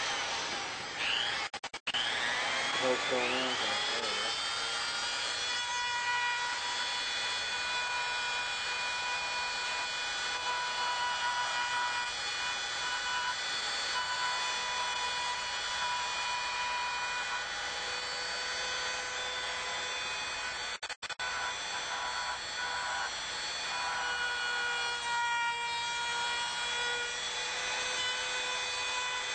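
A Dremel rotary tool fitted with a sanding drum working wood parts for model wing construction, a steady high-pitched whine holding for nearly thirty seconds with brief dropouts, and a short spoken question near the start.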